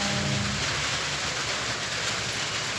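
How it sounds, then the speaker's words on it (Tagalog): Heavy rain pouring down steadily, a dense continuous hiss with a low rumble and a faint tonal hum early on, no voices. "Maulan mga dyan."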